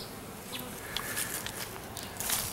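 A swarm of honey bees makes a steady, dense buzz that holds throughout, close and moderately loud, with individual bees droning past now and then.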